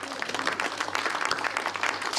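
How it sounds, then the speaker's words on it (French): A church congregation applauds, producing dense, continuous clapping with scattered sharper claps. It is moderately loud and even throughout, with no voices standing out. "Vous pouvez applaudir."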